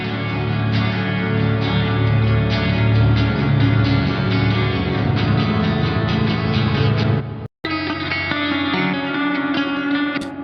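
Clean electric guitar on the middle pickup position plays a plucky, stringy intro, a steady run of bright picked notes with effects and reverb, a brief dropout near the end, then the pattern resumes; no voices.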